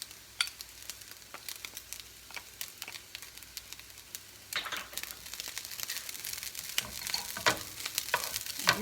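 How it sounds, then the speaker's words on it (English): Rice sizzles and crackles in a hot pan with butter while being stir-fried, with scraping pulses and bursts of frying that grow louder and busier halfway through. "you start really stir frying that rice"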